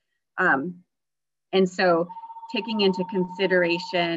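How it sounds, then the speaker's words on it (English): An office telephone rings with a steady electronic tone while a man keeps lecturing over it; clear speech comes before and under the ring. "Pardon the phone."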